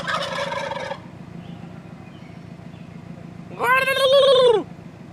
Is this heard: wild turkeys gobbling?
yes